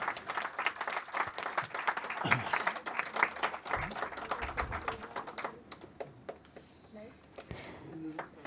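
An audience at a Pune media conference award ceremony claps in a dense, sustained round of applause that thins and fades toward the end, with voices heard underneath.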